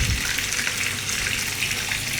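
Mixed vegetables with moringa pods fry in a hot pan, giving a steady, loud, continuous sizzle with no pauses.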